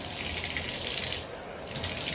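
Tap water running steadily into a tub or sink to rinse caulk during a tub spout diverter repair, a close continuous gushing rush that dips briefly before resuming, with no talk.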